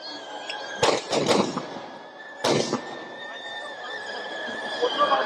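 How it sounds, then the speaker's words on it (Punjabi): Fireworks bursting at a Dussehra celebration on an open ground as the Ravana effigy burns: two clusters of sharp crackling bangs, the first around three quick blasts and the second a pair, over a steady outdoor background din. "ਤੁਸੀਂ ਦੇਖ ਸਕਦੇ ਹੋ ਆਤਿਸ਼ਬਾਜੀ ਕੀਤੀ ਜਾ ਰਹੀ ਹੈ"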